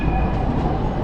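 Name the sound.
Istanbul tram train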